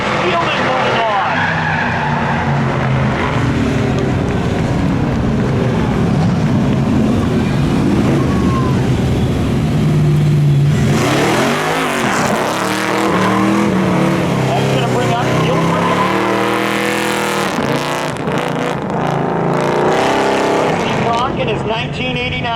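Drag racing Chevy Camaros, a 1989 and a 1984 model, at Seekonk Speedway spectator drags, with loud engines roaring and revving continuously while an announcer talks over the noise.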